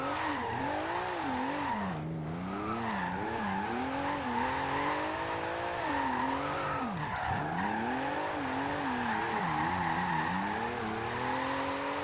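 Porsche 911 GT2 RS drift build sliding in Forza Horizon 2, engine wailing and rising and falling as the tires squeal continuously through long drifts, steady and close with no talk.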